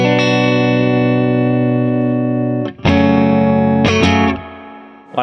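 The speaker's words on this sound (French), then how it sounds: "on va vous faire écouter un petit coup de reverb à ressort" A sustained, harmonically rich guitar tone rings out through a spring reverb with a long reverberant tail, then two sharp struck crashes splash and boing through the reverb before fading.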